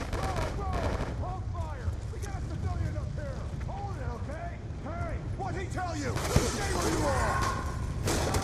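Gunfire from the video game Call of Duty Black Ops 2 crackles in rapid bursts and single shots throughout, mixed under people talking.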